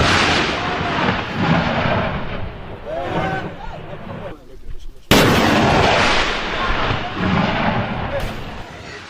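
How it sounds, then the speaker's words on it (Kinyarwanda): Heavy gunfire from fighting between the Congolese army and M23 rebels near Goma, Congo: dense, continuous bursts and booms filling the whole clip, loud and sustained with a sharp jump in intensity midway, mixed with voices. "Muri Kongo noneho habaye urufaya rw'amasasu nk'uko mubibona kambere ka video gatoya"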